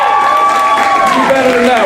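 A youth speech competition audience applauds and cheers in a short, loud burst, with whoops and a voice rising over the clapping.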